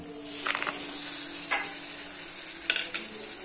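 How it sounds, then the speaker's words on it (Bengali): Goat trotters for mutton nihari paya go into hot, sizzling spice masala in a pan. A steady loud frying hiss carries a few sharp bursts and stirring scrapes, close by and with no voices. "এবার এর ভিতরে দিয়ে দেবো আমি খাসির পায়া।"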